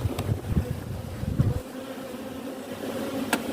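Honeybees buzz around an open hive during an inspection, a close, agitated drone with brief louder swells and no voices.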